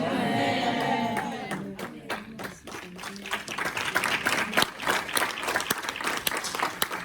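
A church congregation bursts into sustained applause and clapping during a worship service, loud and dense throughout with crowd noise mixed in.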